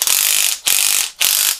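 A Hyundai HY2164 18V cordless 1/2-inch drive impact wrench runs in reverse in three quick loud bursts of rapid mechanical hammering, each separated by a brief gap.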